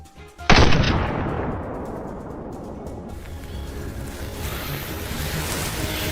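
A single loud, sharp gunshot fired at a wild boar during a hunt, its report decaying into a long rumbling tail and steady outdoor background noise.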